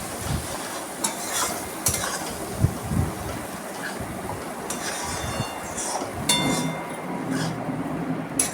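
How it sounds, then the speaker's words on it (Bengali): A paste of ground poppy seeds and cashews with a little water and sugar is stirred and sautéed in a pan, giving a soft continuous sizzle broken by sharp scraping clinks of the spatula at irregular moments. "মশলাটা সুন্দর করে কষিয়ে নেব একসঙ্গে অল্প অল্প একটু জল দিয়ে নাড়াচাড়া করবো"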